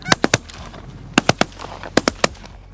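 Gunshots ring out on a hunt in three quick bursts of three sharp, loud cracks each, separated by short pauses.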